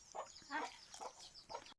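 A farmyard chicken clucking close by, four short separate clucks in an uneven rhythm, fairly quiet.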